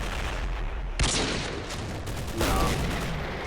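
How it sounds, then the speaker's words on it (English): A sniper rifle shot effect from Modern Warfare 2 cracks out twice in sharp bursts with a short booming tail, sitting under light game noise while a voice briefly speaks. "It makes a sniper noise."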